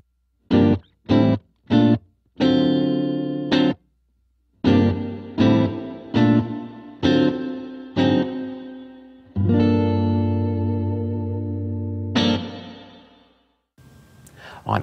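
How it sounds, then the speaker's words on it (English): A Boss RV-5 digital reverb pedal adds reverb to a series of plucked guitar notes and chords, each with a lingering tail, the chords growing longer and ringing out alone. "Here's an example of reverb."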